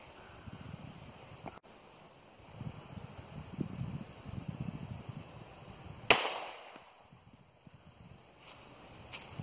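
A single sharp gunshot from a .22 Magnum firearm loaded with CBC Hunter hollow point ammunition, fired outdoors at a bar of soap, rings out mid-clip, loud and close, with a brief tail over quiet rustling background.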